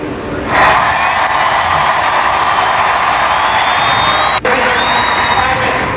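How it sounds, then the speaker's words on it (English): A packed baseball crowd at Fenway Park during a Red Sox game, as a ceremonial first pitch is thrown, bursts into loud, sustained cheering and whooping that rises sharply and holds steady as a dense roar. "Heather Abbott wowed the crowd at the Red Sox game yesterday when she threw the ceremonial first pitch at Fenway Park."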